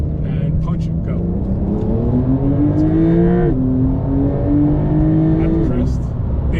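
A Porsche accelerates hard on a track, its engine pitch climbing steadily through the gears with brief drops at shifts, loud and close, with a voice speaking over the engine.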